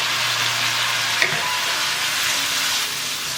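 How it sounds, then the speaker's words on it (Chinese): Chaoshan radish rice filling with shiitake mushrooms, dried shrimp, salt, pepper and a little soy sauce is stir-fried in a hot pan. It gives a continuous loud sizzle with a brief clink of the spatula partway through. "翻炒均匀了就可以关火"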